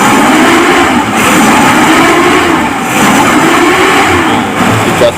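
A carbureted Suzuki Katana/Jimny 4x4 engine runs loud and close, its steady rumbling drone swelling and easing as the throttle is blipped, with no voices.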